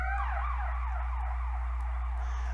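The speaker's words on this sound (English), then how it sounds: "I'm sorry about the sirens right now, guys." An emergency vehicle siren near a hospital wails in repeated falling sweeps over a steady low hum, fairly loud and close, with no talking.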